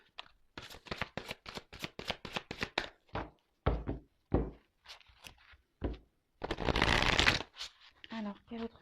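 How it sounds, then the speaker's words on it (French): Tarot cards are shuffled and drawn with a run of quick crisp riffles and slaps, followed by scattered soft card taps and a longer shuffling burst, close and clear with no talking over it. "Allez, je prends encore quelques cartes."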